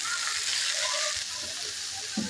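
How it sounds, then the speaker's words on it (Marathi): Fenugreek leaves sautéing in a pan with garlic for a dhaba-style lasuni methi, producing a continuous, even frying hiss with faint stirring. "आता ही मेथी टाकून घेऊया आणि परतून घेऊया आपण"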